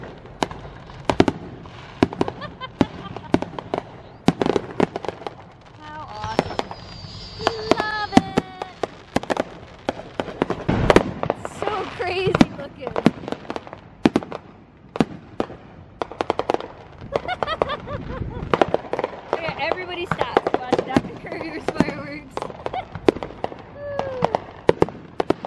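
Rapid crackling fireworks bursts go off continuously near Lake Michigan, dense popping and banging with sharp cracks throughout, moderately near.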